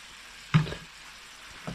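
Spring onion stems dropped into a hot pan of prawns in garlic lemon butter, giving a sudden brief sizzle burst that quickly settles to a faint fry, then a small stirring clatter.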